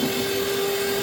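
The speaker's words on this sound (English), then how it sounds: "whisk it on high speed for about 10 to 12 minutes until they are light and fluffy and almost white in color" An electric mixer runs steadily on high speed, whisking eggs with sugar, a constant motor whine with a steady tone and no talking over it.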